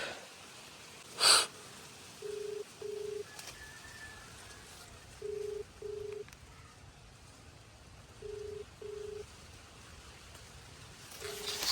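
A phone ringback tone rings out in evenly paired beeps, four pairs over several seconds, faint against quiet room background, with a brief noise burst near the start.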